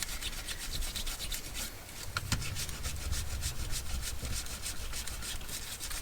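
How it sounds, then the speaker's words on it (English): A gum eraser rubs dried glue off a recycled paper coin envelope, making a close, continuous scratchy scrubbing with quick back-and-forth strokes. "It's going to roll right off with this gummed eraser."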